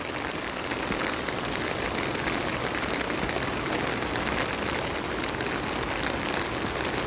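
Heavy rain from Typhoon Kristine pours steadily and loudly on surfaces outdoors, a dense unbroken hiss of drops filling the whole stretch with no pauses.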